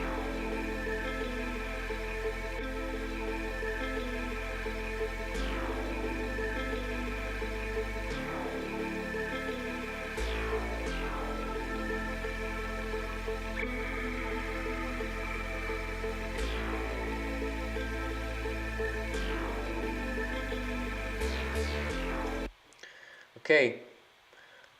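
Drum and bass track with a deep sustained bass and a lush synth pad, joined by sweeping rhythmic hits that repeat at a steady pace; the full mix plays loud and continuous before cutting off near the end into a brief voice.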